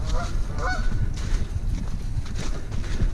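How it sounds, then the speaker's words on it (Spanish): Ducks honk in the morning at a pond in Trap Pond State Park, with repeated nasal calls at moderate distance over outdoor background noise. "Ahí están los patos, disfruten de su canto por la mañana."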